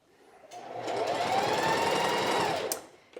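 A sewing machine stitches a t-shirt in one steady, continuous run, starting up and then stopping near the end, with a close, even whir.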